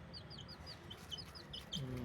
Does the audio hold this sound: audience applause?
no